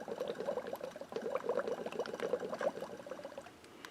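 Water bubbles rapidly and steadily inside the tubing of a low-tech hand-operated emergency ventilator, close by and fairly faint.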